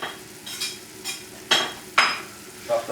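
Chopped lobster goes into a hot pan of ravioli filling, stirred with a utensil, giving soft sizzling under a few sharp metallic scrapes and clinks against the pan.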